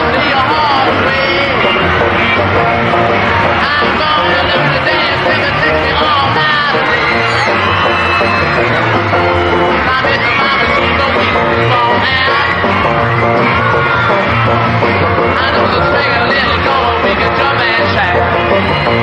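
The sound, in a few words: crowd yelling at a 1960s Rolling Stones gig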